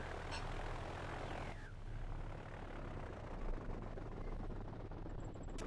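Aircraft engine drone in a World War II naval strategy game set in the Atlantic, a steady rumbling hum that holds at moderate level throughout with faint interface tones near the end.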